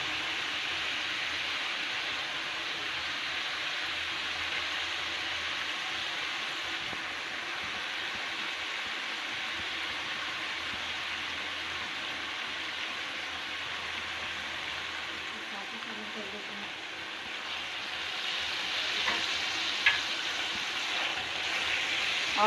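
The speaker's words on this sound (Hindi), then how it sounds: "लहसुन अदरक को 2 से 3 मिनट के लिए फ्राई करेंगे।" Garlic and ginger fry in a pot for deghi chana pulao, giving a steady, even sizzle that hisses like light rain throughout, with a few faint clinks near the end.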